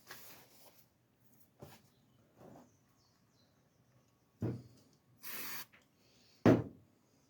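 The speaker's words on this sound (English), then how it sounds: "I suppose a case of just lining that up and then spraying it." A spray can sprays paint onto a billet handbrake bezel for a Ford Escort MK1 restoration, heard as a few short, close hissing bursts separated by quiet gaps, with faint handling sounds in between.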